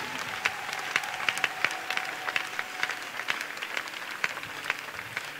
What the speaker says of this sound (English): Clap for the word of God again.